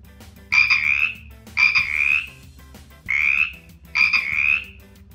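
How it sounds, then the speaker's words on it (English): Four loud, close croaks from a cartoon frog come one after another in a steady rhythm, each a buzzy rasping burst of about a second. "Now look, Felix the Frog is jumping again"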